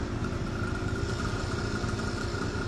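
A motorcycle engine idles steadily nearby in the street, a low even rumble with slight clatter and no rise in revs, heard alone.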